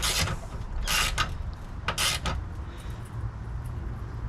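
Ratchet with a long 12 mm extension tightening a bolt on a 2018 Nissan Pathfinder hood strut, heard as a few quick, close clicking bursts of turning with short pauses between them.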